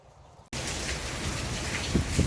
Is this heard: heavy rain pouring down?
yes